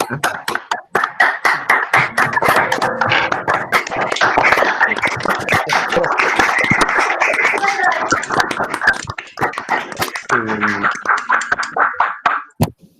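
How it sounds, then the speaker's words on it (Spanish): An audience applauds after a talk on solar energy for thermal processes in Puna mining: a dense, loud burst of many hands clapping close by, thinning out near the end. "Les invito a que lo podamos aplaudir"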